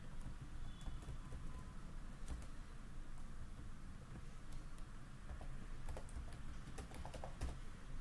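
Faint, steady computer keyboard typing while coding a quiz application, a continuous patter of light clicks over a low background hum with no talking.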